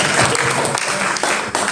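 Congregation applause at a fasting prayer service on Gunung Salak, a dense, continuous wash of many hands clapping, loud and steady for under two seconds with no pause.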